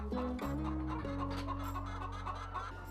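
Free-range chickens on an eco-friendly organic farm cluck steadily and close by, several birds calling over one another in a busy, continuous flock chatter with no talk.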